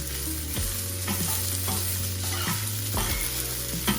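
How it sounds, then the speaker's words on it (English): Breakfast fried rice mixed with vegetables sizzles steadily in a pan while a utensil scrapes and stirs it, producing regular scraping strokes over a close, continuous frying hiss. "I'm just gonna let it fry a little bit"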